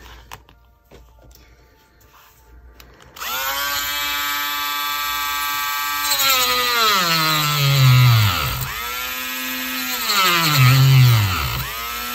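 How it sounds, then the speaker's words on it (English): A Dremel rotary tool whirs up to a high, loud whine, its pitch dipping twice as it drills into a Blythe doll part, close and continuous. "hopefully my Dremel will have enough power to do that"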